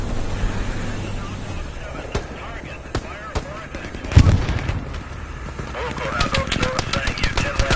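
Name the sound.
gunfire and artillery in a video game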